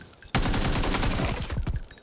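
Rapid automatic gunfire in the battle-royale game PUBG, a sudden loud burst of close shots starting after a brief quiet moment and continuing in a dense, rattling stream.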